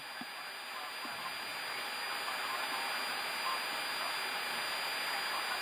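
Jet engine noise of an Airbus A320neo heard from inside the cockpit: a steady, even broadband roar and hiss with a faint high whine, continuous for several seconds at a moderate level with no talk.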